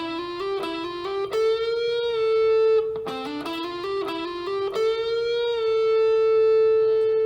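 An electric guitar plays the second run of a song's solo, a loud, distorted lead line with quick slides and a sustained bend that rings out. Two fast phrases land around held, singing notes, with no talking.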